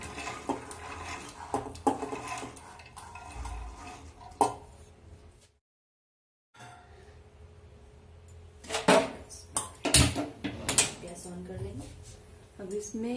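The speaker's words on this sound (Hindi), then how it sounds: "पहले मटर को इसमें कुकर में डालेंगे।" Soaked peas are tipped into a metal pressure cooker for chole, making scattered clinks and rattles of utensils and pan, a brief silent gap, then a louder burst of clattering, all close by.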